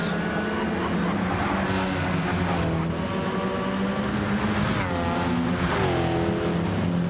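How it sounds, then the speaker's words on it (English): A racing car engine in a sim racing game roars steadily at close range, its pitch rising and falling through gear changes over several seconds, with no talking. "A car."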